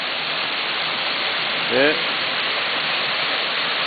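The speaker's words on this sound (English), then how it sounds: "It's a really pretty waterfall." Trail Canyon Falls pours in a steady, full rush of falling water at the base of a steep spur trail beside a small pool, close and constant throughout, with one brief spoken word partway through.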